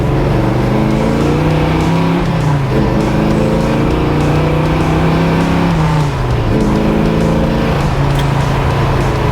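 A 1967 Chevelle SS's deep, throaty V8 engine roars continuously up close, its pitch rising through gears and dropping between shifts, loud and steady throughout.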